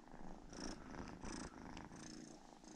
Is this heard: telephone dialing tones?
no